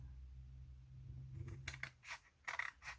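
Scissors trim the edge of a lunch bag journal made from a paper bag and wallpaper, a few quick crisp snips and rustles at close range after a low hum, faint overall.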